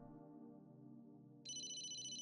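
A phone rings in The Smiling Man, a Famicom-style detective game, its bright repeating electronic trill starting partway through over a steady game music bed.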